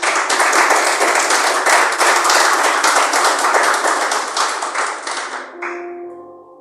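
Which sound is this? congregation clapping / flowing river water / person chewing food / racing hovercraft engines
congregation clapping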